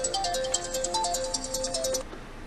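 Phone ringtone of an incoming call played through Apple CarPlay in an Audi, a bright repeating melodic chime at moderate loudness that stops abruptly near the end.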